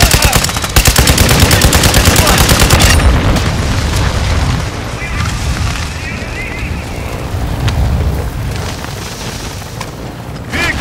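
Video game combat scene with a vehicle being destroyed: loud booming explosions and bursts of gunfire and machine-gun fire fill the whole stretch, with radio-style voices talking over the chaos.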